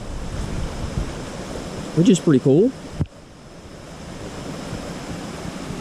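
Steady broadband rush of flowing water near a gravel-road trailhead for the Gregory Bald Trail, heard continuously as a close, even wash, with someone briefly speaking over it.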